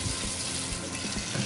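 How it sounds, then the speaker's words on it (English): Water pours steadily from a kitchen tap into a cooking pot, a close, continuous gushing splash that runs alone for the whole moment. "I'm just going to add some water to it"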